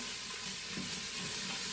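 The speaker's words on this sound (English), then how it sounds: "So I'm sure you guys can hear that sizzle going on." Steady, dense sizzling of chili ingredients frying in a pan, a continuous crackling hiss with a slight stir partway through.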